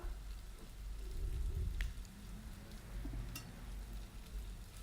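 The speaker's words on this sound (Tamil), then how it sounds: "தக்காளி சேர்த்துட்டு இதையும் நல்லா வதக்கிக்கோங்க" Tomatoes with ginger and garlic sizzle in a pan, a steady, soft frying hiss with a couple of faint clicks.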